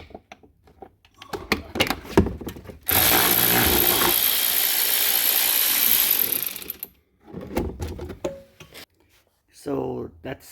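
Ratchet wrench loosening three E12 bolts on the rear shock absorber of a BMW X1 F48, heard as a sustained, loud, dense run of clicking lasting several seconds, bracketed by shorter bursts of clicks and handling noises.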